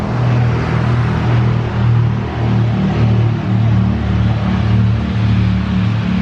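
Steady road traffic rumbles along the Great River Road near Elsah, a continuous low drone of passing cars heard from a nearby old-town sidewalk, with no talking.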